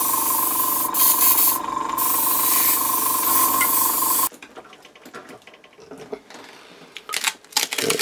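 Spray paint can hissing in a steady burst as it dusts over a plastic dungeon tile stencil, followed by a sudden stop and quiet handling sounds and light tapping.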